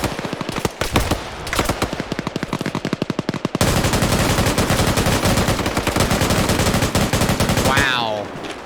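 Loud, close bursts of 240 machine gun fire in an Arma 3 PvP match: rapid repeated shots early, then a sustained dense stream, ending in a rising whine.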